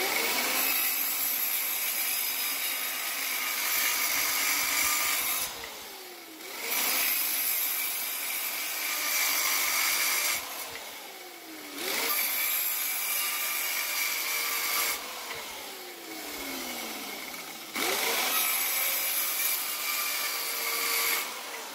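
HYCHIKA CS-115C circular saw with a 24-tooth blade cutting repeatedly through a 45 mm wooden board, a loud, continuous whining buzz in several long cuts broken by brief dips as each pass ends.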